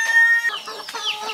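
Chickens just let out cluck loudly and close, a sharp high call giving way to a jumble of overlapping clucks.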